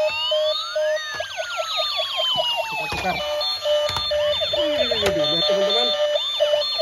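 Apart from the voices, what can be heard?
toy ambulance siren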